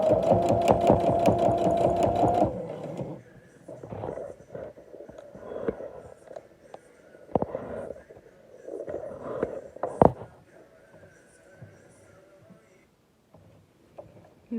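A sewing machine stitches fringes in a quick rapid-fire burst for the first couple of seconds, then falls quiet to softer clicks and fabric handling.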